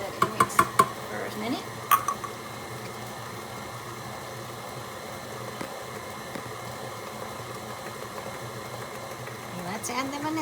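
An electric mixer whirs steadily at moderate volume through German chocolate cake batter, a continuous hum with a few clinks of a utensil against the bowl at the start and a rise near the end, with someone talking.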